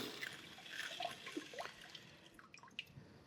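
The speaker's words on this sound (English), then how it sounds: "I'm gonna put skin on the sensor, run the posterior wash." A VOVO VB 6000SE bidet seat runs its posterior wash, giving a faint, steady hiss of spraying water with scattered drips and splashes, heard close and alone.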